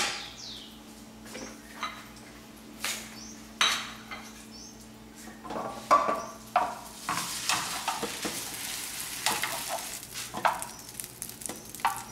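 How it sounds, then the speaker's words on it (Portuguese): Bread toasting in butter in a frying pan brings a soft sizzle under repeated clinks and scrapes of utensils against the pan, with the frying growing fuller and louder in the latter half. "Vou pegar a manteiga, pôr na frigideira e dar uma tostadinha no pão"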